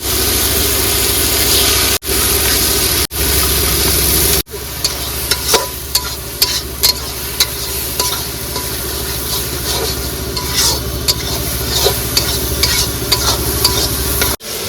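Eggs stirred into spiced masala frying in a pan, loud close sizzling with repeated scraping strokes of a spatula and brief pauses early on, no talking.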